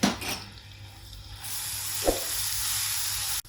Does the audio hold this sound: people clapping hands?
no